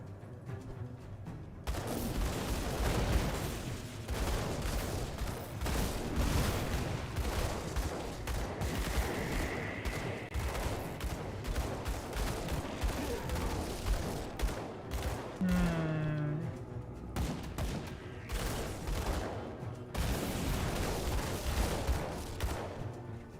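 Dense, continuous gunfire in the action role-playing video game Grim Dawn, rapid volleys of shots crackling almost without pause for over twenty seconds, loud and close over a rumbling game soundscape.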